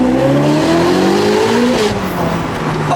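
A Ferrari 488 Pista with a Novitec-tuned turbo V8 accelerates loudly and close, its engine pitch climbing through gears with a brief shift dip, sustained and dominant with no talk.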